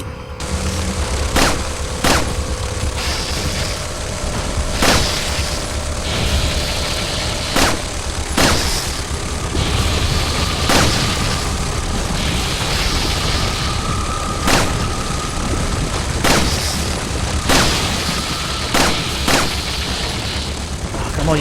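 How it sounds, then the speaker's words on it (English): Pistol shots in the survival horror game Resident Evil 4 on Professional mode. Sharp single reports ring out at irregular intervals of one to three seconds over a loud, steady game-ambience drone. "Yeah, I'm gonna use the pistol now."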